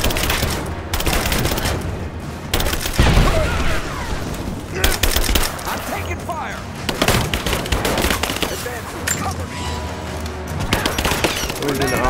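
Gunfire in a Rise of the Tomb Raider battle: loud, continuous automatic bursts and shots rattle throughout, with shouted voices calling out over the firefight.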